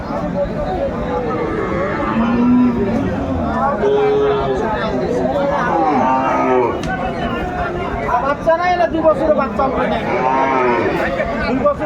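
Cows and calves moo with low, drawn-out calls at a cattle market in Aftabganj, rising over a busy background of crowd chatter and voices.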